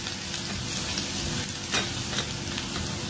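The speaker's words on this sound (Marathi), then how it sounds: "तेलामध्ये असं लसूण छान परतून घ्यायचे." Garlic sizzles and fries steadily in hot oil in a pan, a continuous close crackling hiss with occasional louder pops, no talking.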